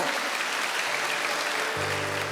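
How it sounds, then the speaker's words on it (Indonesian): A congregation applauding during an online church worship service, a loud continuous wash of clapping that fills the whole moment, joined by a sustained low organ-like tone toward the end. "Tepuk tangan bagi Allah kita."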